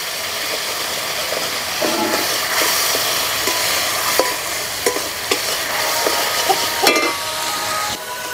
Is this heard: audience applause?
no